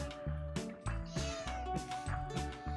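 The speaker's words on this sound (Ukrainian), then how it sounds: "не нявкай" A cat meows several times in a row, close and fairly loud, with drawn-out, wavering calls separated by short pauses.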